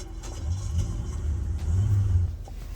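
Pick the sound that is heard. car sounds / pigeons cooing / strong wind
car sounds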